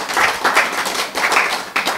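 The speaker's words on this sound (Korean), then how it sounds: "박수 잘 치시네." Lecture audience clapping in rhythmic bursts, a lively group of hands beating in quick patterned groups, close and fairly loud, with no talk.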